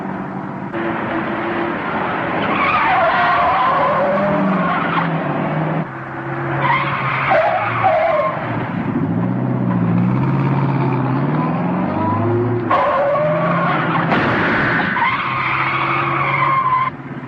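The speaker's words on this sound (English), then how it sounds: "Take the next corner easy and then step on it." A car from a 1949 film chase rounds a corner and speeds off, its tires squealing and skidding loudly over a roaring engine in long, continuous bursts.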